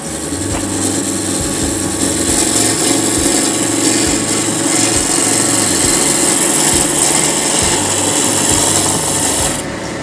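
A dry piece of wood spinning on a lathe is cut with a turning tool, a loud, continuous rasping scrape with a steady pulsing rhythm from the rotation, alone without talk for about ten seconds.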